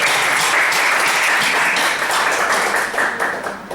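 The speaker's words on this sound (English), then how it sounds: "Give Nu Ming a big round of applause" Applause from a Toastmasters meeting audience for a speaker, a dense steady wash of many hands clapping close by, loud and sustained before tapering off slightly at the end.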